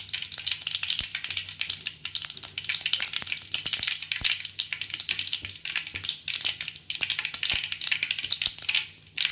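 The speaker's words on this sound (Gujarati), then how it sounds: "રાઈ તતડી ગઈ છે" Mustard seeds splutter in hot oil while tempering for a Gujarati drumstick (sargva) curry, a dense continuous crackling and popping that stays loud and busy throughout.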